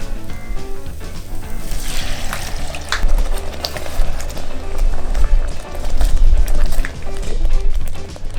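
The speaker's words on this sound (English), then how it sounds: "So to that, we're going to add our shrimp stock." Shrimp stock poured into a pot of fried spice paste for Sarawak laksa, making a loud, continuous splashing, gushing pour that surges and eases, with no talking.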